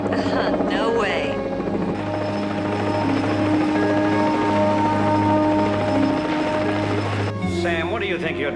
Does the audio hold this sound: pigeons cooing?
no